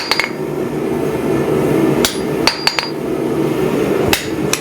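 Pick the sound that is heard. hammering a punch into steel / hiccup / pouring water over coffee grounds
hammering a punch into steel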